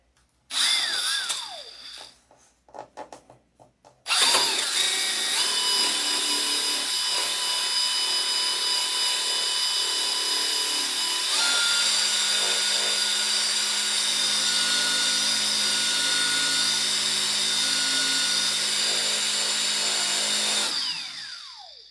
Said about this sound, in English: Do not hold the buffer in one spot. You'll burn the paint.